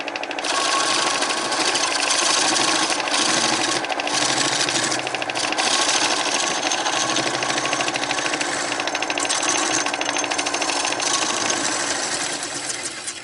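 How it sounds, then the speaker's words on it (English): A wood lathe turns a double-decker serving platter while a sharp point tool dresses the surface, giving a loud, steady whirring and scraping drone that holds for the whole stretch with slight swells. "Just a little more dressing up with a sharp point, then I'm going to stop and sand it all out."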